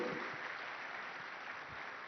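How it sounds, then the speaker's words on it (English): An audience in a plenary hall at a summit claps, a soft, steady, distant patter of applause that lasts a couple of seconds with no talking. "Give yourselves a round of applause."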